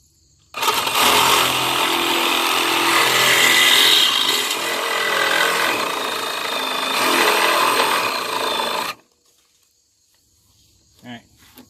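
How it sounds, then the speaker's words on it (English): A Sawzall reciprocating saw cuts on a Ford F250 truck, a loud, continuous buzzing rasp close by for about eight seconds before stopping abruptly, followed by faint clatter. "Got my trusty Sawzall."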